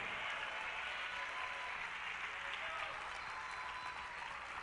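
A church congregation applauds during a Spanish-language sermon on the blood of Christ, giving a sustained, even wash of clapping that sounds somewhat distant and muffled, with a voice faintly underneath.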